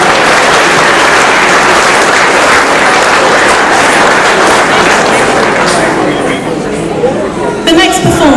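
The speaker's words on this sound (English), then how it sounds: "they certainly deserve another round of applause" A loud, dense wash of audience applause at a community cultural event follows a performance by young children, sustained and close before easing slightly near the end.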